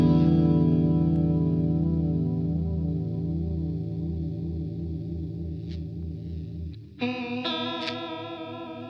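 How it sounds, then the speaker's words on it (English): An electric guitar plays sustained, shimmering chords through a cheap $9 chorus pedal with a wavering chorus effect, then a brighter strum near the end; no voices. "This sounds like most of the cheap classic chorus pedals that I've tried"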